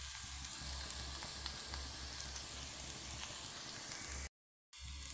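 Okra frying in a pan with roasted, coarsely ground peanut powder, a steady sizzling crackle heard close with no talk, ending in a brief dropout near the end.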